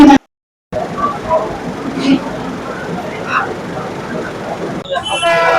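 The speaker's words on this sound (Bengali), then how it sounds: "ট্রেন ছেড়ে কল্যাণ স্টেশন ছেড়ে এবার এগিয়ে চললো তার পরবর্তী গন্তব্যের দিকে।" The 12810 Mumbai Mail train pulls away from Kalyan Junction with a steady, loud rolling rumble. A brief dropout comes near the start, and a sharper rattle of carriage noise rises at the end.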